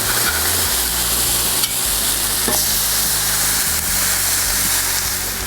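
Smash burger patties fry on a Blackstone griddle with a loud, steady close-up sizzle, broken by a couple of sharp spatula scrapes as the crusted meat is worked loose and flipped.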